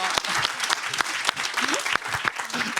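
A studio audience applauds steadily, dense close clapping filling the whole moment, with a voice talking over it.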